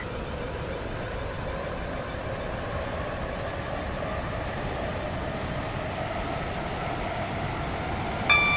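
A Class 44 train in the Roblox game Stepford County Railway runs with a steady, continuous rumble and hum of motion at an even level, with a faint tonal chime right at the end.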